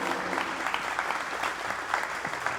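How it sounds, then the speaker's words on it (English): Audience applause for presenters at an engineering talk on online games, a full, steady roar of many people clapping at once, fairly close and even throughout. "let's give them a round of applause"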